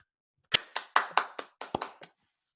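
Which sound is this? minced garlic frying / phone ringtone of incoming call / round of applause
round of applause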